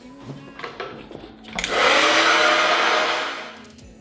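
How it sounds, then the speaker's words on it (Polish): A hair dryer switches on at full power, starting to blow-dry prepared hair with a loud, steady broadband whoosh that holds for about two seconds, preceded by faint handling clicks and easing off slightly near the end. "przygotowane włosy możemy zacząć suszyć."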